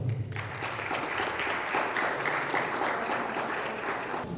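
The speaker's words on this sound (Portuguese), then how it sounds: "Uma salva de palmas." Audience applause for a speaker at a Brazilian government talk on the Bolsa Verde payment-for-environmental-services program, steady and dense clapping filling the hall for several seconds.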